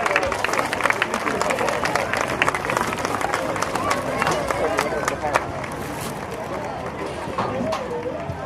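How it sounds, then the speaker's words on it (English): Crowd applause and cheering for the homecoming king and queen at a high school football game, steady and loud across the whole stretch with dense clapping and crowd noise. "Let's give a big round of applause to all of them."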